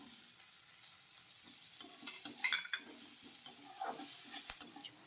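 Chopped ginger, onion and green chili sizzle in hot oil for an egg chili dish, a steady faint frying hiss broken by scraping stirs and light clinks of a spatula against the pan.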